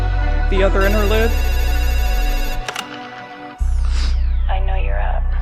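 A telephone rings in a short musical interlude on an album, its repeated tones set against a sustained synth bed with a brief drop to near silence midway.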